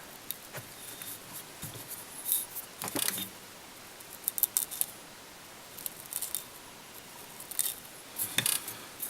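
Scissors trim deer hair on a fly being tied, a Raymond bumble muddler: a series of small, crisp snips and clicks spaced irregularly, close and quiet, with no talking.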